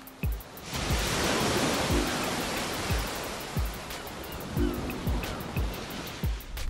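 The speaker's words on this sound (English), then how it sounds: "Now this is how ocean waves sound here on Earth." Ocean waves on Earth rolling in as a steady broad wash of surf, with repeated low thumps of breaking waves every second or so, loud and continuous with no voices.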